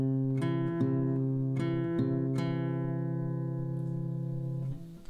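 An acoustic guitar is picked slowly, alternating between bass and higher strings in a gentle pattern, a few plucked notes sounding clearly over sustained ringing tones, close and quiet with no talk.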